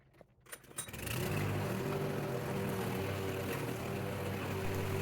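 A lawn mower starts up after a few clicks and then runs at a steady, fairly faint engine drone while cutting thick, long grass.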